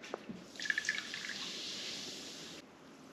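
A thick, sugary jelly mixture pours into a Mountain Dew bottle, with close, bubbly gurgles and a sustained trickle that stops abruptly.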